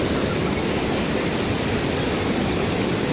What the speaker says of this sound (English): You can hear the waterfall, right?